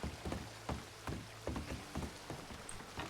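Steady rain pattering on surfaces in Red Dead Redemption 2 (RedM), a constant close hiss with irregular heavier drops and taps, no speech over it.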